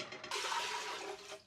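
Water pours steadily from a container into a cooking pot, eight cups in all, to boil for black beans, a gushing, fairly close stream that starts abruptly and runs alone.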